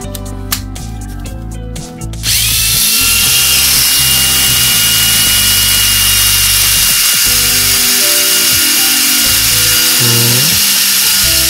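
A small Mini 4WD car motor whines loudly and steadily with a buzzing gear rattle, starting after a couple of seconds of clicking and handling noises.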